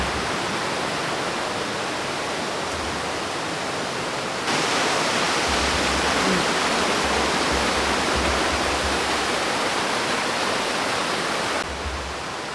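A forest stream waterfall roars loudly and steadily nearby, a dense unbroken rush of falling water that swells a little louder partway through, with no voices.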